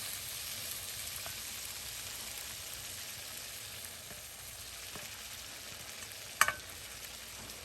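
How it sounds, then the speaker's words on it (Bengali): Fenugreek greens frying with mung dal in a pan, a faint, steady sizzle that runs throughout, with a few soft stirring clicks and one brief sharper clatter near the end. "আমি দিয়ে দিচ্ছি আমার রান্না করা এই যে মেথির শাকটা।"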